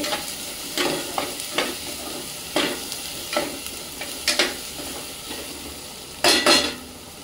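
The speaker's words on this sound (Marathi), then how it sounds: "मसाले चांगले फ्राय होऊ दे" Ground spices fry in oil in a pan for a clam curry, a soft continuous sizzle broken by several sharp scraping and clinking stirs of a utensil against the pan, close and without talk.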